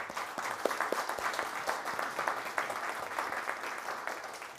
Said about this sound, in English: I want you to give a hand of applause to all of our speakers on this panel